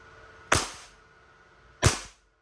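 Two sharp pops a little over a second apart from a WE 5.1 Hi-Capa Type R airsoft gas pistol, each a crisp snap with a short airy tail, in a quiet setting.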